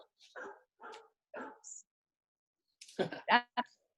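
A dog barks a few times through a phone speaker, short thin yaps spaced apart, followed by a louder burst of clustered barks near the end, with no real dog in the room.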